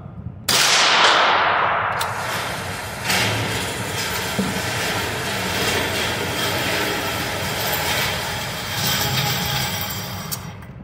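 A gunshot cracks at an outdoor range during an optic test, a loud sharp blast with a long rolling echo, then a second fainter report and lingering outdoor noise.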